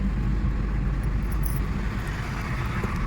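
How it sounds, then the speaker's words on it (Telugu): Steady, loud road traffic drones near a bridge on the way to Bhuvanagiri, with vehicles rumbling past continuously and no talk. "ట్రాఫిక్ బాగానే ఉంది"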